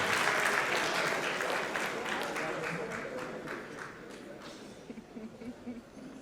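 Dense applause from an audience at a conference awards and dinner night, loud at the start and thinning gradually, with a few scattered claps near the end.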